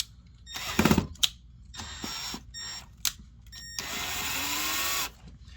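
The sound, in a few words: power drill driving screw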